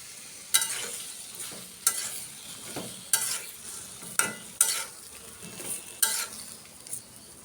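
Tomatoes with spices frying in a pan, with a steady background sizzle broken by regular scraping stirs of a spatula about every second and a half.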